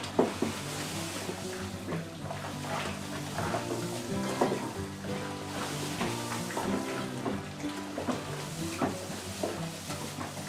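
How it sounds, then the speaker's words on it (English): Grain is stirred into mash water for a honey brown ale, with a paddle scraping and sloshing through the thick mash in an irregular, close rhythm at moderate volume. "Try to get this stirred in with no dough balls."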